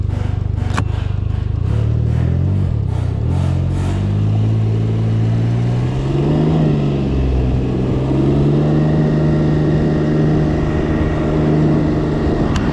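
Can-Am Ryker three-wheeled motorcycle under way, engine droning steadily and rising in pitch as it accelerates, with heavy wind rush over the rider's helmet throughout.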